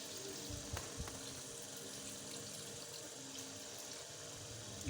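Water pours steadily into a cooking pot of qeema karahi with ginger-garlic paste and chillies, a soft continuous trickle heard close and fairly quiet, with no talking.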